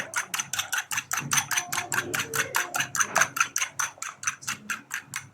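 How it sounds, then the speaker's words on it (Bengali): Eggs beaten and mixed in a bowl for a Bengali evening snack, a fast steady run of sharp clicking strokes, close and fairly loud, continuing for several seconds with no talking. "একটু সুন্দর করে মিক্স করে নিয়েছি ডিমটা"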